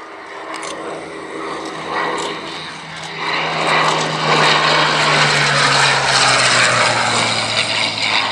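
A Sea Hurricane fighter with a 24-litre Rolls-Royce Merlin engine flies past at an airshow, its steady propeller drone swelling louder and staying strong, heard alone without talk.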